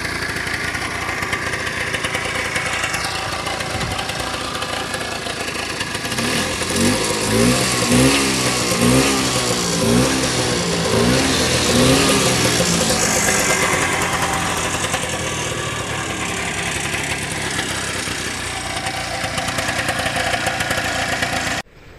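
A 1950s Vespa 125 racing scooter with an open exhaust runs loud and close, idling raspily, then revving repeatedly in sharp rising bursts before settling back and cutting off at the end.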